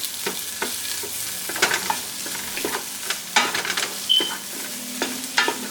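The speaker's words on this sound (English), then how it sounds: "Let that butter melt just a little bit." Butter melting in a pan with diced courgettes, a steady sizzle broken by scraping utensil strokes and clinks against the pan, close and fairly loud, with no talking.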